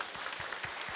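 Steady applause from a studio audience for the CJ Racing team at a KartRider esports league match, heard faint and distant as a continuous patter of clapping.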